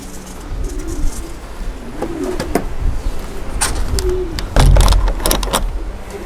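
Racing pigeons in a loft, soft repeated low coos and hoots close by, mixed with scattered clatter, shuffling and wing flutters.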